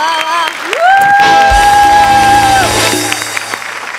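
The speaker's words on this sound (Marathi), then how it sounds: "मी उभा राहून एकदा टाळ्या वाजवतो जोरदार" Studio audience at a Marathi comedy show clapping and cheering loudly, with whoops and shouts over sustained applause and a held musical tone, near and full throughout.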